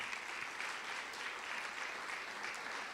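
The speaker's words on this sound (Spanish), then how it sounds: "den un aplauso fuerte al Señor" A church congregation applauding loudly and steadily throughout, a dense continuous clapping wash with no speech over it.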